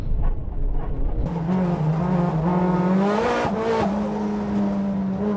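Race cars accelerating hard on a Japanese mountain pass during a touge battle: a loud, steady engine roar holds and climbs in pitch, briefly breaks around a gear change, then carries on at full throttle.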